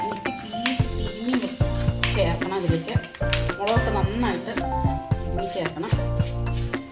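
Beef pieces being turned and mixed in a pan, with metal utensil scrapes, clinks and a steady sizzle running throughout at close range while a voice speaks over it.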